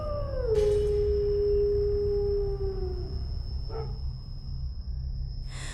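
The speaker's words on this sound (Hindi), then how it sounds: "रात को दूर जंगल से भेड़िए की लंबी हुआ हुआ की आवाज आती।" A long, sliding canine howl over a steady low rumble, falling in pitch and fading out, with a brief noisy rustle midway.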